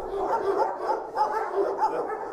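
Several dogs bark and yip together at an animal shelter in northern Germany, a busy, continuous chorus of overlapping barks at close range with no pause.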